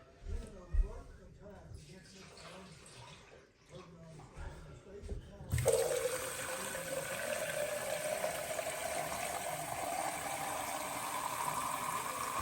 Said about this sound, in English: you should see water come out of that hole in the top and flow like it normally does